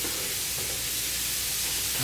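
Bacon and onions sizzle in a pan with a constant, even hiss of frying fat, close and steady for the whole stretch, with no voices.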